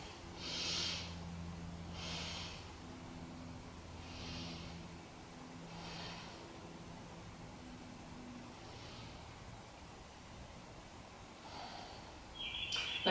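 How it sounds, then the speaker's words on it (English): Slow, deep breaths during a beginner yoga pose, several long inhales and exhales spaced evenly, soft and close against a quiet room with a faint low hum. "let's take three breaths here"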